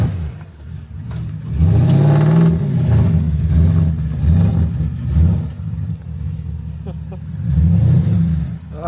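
A Porsche Cayenne stuck in wet, soft mud revs its engine in repeated rising surges with wheels spinning, loud and close, while people talk over it.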